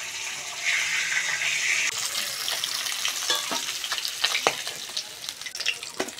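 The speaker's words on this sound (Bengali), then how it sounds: "বাকি মাছগুলো এরকম লাল লাল করে ভেজে নেব।" Japanese puti fish frying in hot oil, a dense, steady sizzle with scattered sharp crackles and spatters that grow busier toward the end, close and fairly loud with no talking.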